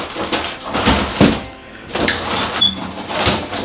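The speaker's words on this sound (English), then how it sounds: "make sure the shower door is closed" A glass shower door in a cruise ship cabin aboard the Celebrity Eclipse slides and bumps shut, with close scraping movement, a short pause, then more sliding and rattling.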